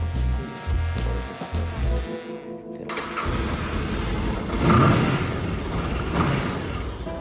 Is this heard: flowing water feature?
no